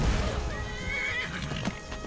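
A horse in the video game Skyrim whinnies loudly with a rising, wavering cry, accompanied by hoof clip-clops and background ambience; no talking.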